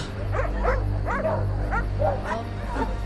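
A pack of six or more dogs barks and yips outdoors by a roadside, overlapping sharp barks arriving in quick bursts with some whimpering, fairly close over a steady low rumble of background noise.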